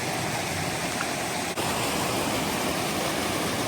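Water pours over a small cascade on a wilderness creek, a close, steady, full rushing roar with no voices.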